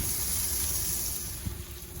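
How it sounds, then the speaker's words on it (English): Bacon sizzles in a pan at a pop-up camper, a steady bright frying hiss with soft crackles throughout. "We got the bacon cooking."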